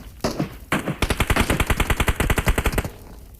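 Rapid automatic gunfire in PUBG Mobile, a loud close burst of about twenty evenly spaced shots after two or three single shots, then fading out.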